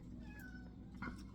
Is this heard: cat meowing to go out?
yes